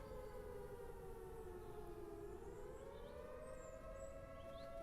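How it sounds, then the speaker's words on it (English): A civil defense style siren wailing in the video game Surroundead, a single long rising and falling tone with layered harmonics, loud and continuous without any talk. "There's a siren going off."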